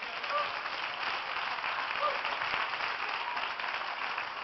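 Steady applause from a church congregation fills the room, a dense continuous patter of clapping that holds at even strength throughout.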